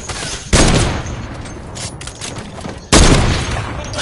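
Two sharp, loud gunshot blasts from a shooting video game, fired without scoping, each with a sudden onset and a decaying tail, the first near half a second in and the second just before three seconds, over a busy game background.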